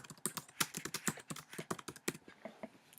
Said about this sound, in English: And then when you're done typing it in